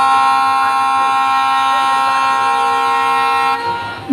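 A WDG4 diesel locomotive horn in the Bharat Rail mobile game blares loud and steady as a sustained multi-tone chord for about three and a half seconds, then cuts off.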